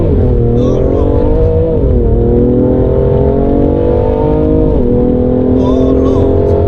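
From inside a BMW M3 launching hard on launch control, the engine roars loud and constant, its pitch climbing steadily and dropping briefly at each quick gear shift.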